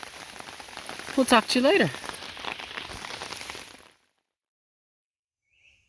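Rain patters steadily on a tarp, a dense soft hiss under a brief spoken phrase, ending abruptly in silence after about four seconds.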